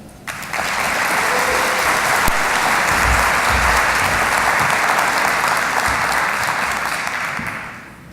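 A large audience applauds to welcome Dr. Marc Milstein at a plenary session on brain science, creativity and innovation. The clapping is sustained and dense, with no talk over it, swelling quickly and holding steady for several seconds before tapering slightly.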